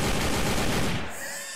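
Gunfire in the stealth video game Sneak Thief: a loud dense burst of rapid shots that stops abruptly after about a second, leaving a faint ringing tail.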